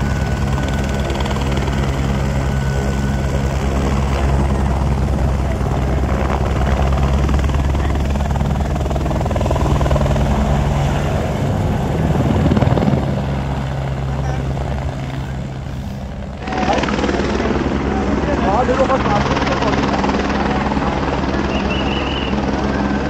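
Helicopter near Kedarnath on the Himalayan pilgrimage trek: a loud, steady rotor thrum and engine drone throughout, rising briefly in intensity midway, with voices talking faintly underneath.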